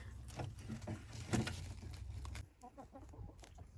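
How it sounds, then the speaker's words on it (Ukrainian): Chickens cluck softly nearby in short scattered calls, with light pecking and rustling around them and no talking. "Кури вже збираються."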